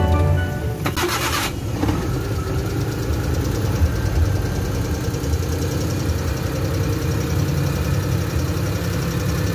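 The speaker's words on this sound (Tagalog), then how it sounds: "may linaw na yung tunog ng makina. Straight na siya." A car engine that has just had its spark plug replaced cranks briefly, catches, and settles into a steady, even idle that runs continuously and close by, with no talk over it.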